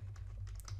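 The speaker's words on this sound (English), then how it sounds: "we're going to type in" Quick, quiet keystrokes on a computer keyboard, a brief burst of close, soft clicking lasting under a second.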